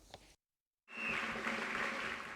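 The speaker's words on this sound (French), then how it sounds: "Ces acclamations et cris de joie marquent la graduation de 45 aspirants au titre d'aumôniers" Applause and cheering at a graduation ceremony for chaplain candidates, a steady crowd roar that starts after a brief silence and continues throughout.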